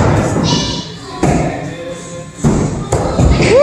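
A thrown axe strikes a wooden target during a WATL professional qualifier, giving a few sharp thuds spread through the clip over a steady noisy indoor venue background.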